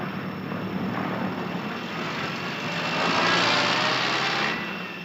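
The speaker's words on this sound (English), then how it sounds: "All-weather CF-100s scrambling for a practice interception on North Stars." Avro CF-100 all-weather fighters scramble at an aerodrome: a loud continuous jet-engine roar that swells to a peak and then eases slightly.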